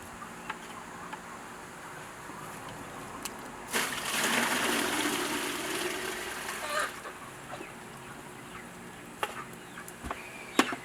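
Roughly two and a half gallons of water pour into a 3-gallon bucket of dug clay soil, a rushing splash of about three seconds amid faint outdoor background noise and scattered small knocks.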